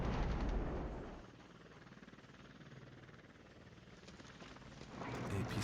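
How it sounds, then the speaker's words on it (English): Mortar fire and explosions boom in the Wargame battle, with heavy low rumbling blasts at the start and end and a steady muffled din of distant battlefield fire between them. "Mortar fire is pretty brutal over there."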